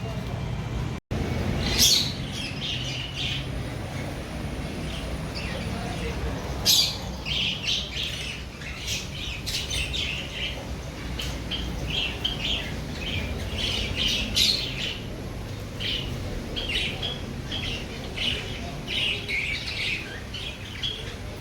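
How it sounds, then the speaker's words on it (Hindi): Parrots squawking and chirping repeatedly over a steady background of traffic hum, with sharp, shrill calls recurring throughout, moderately close. "ये कैसे खिलौने जैसे तोते हैं यार।"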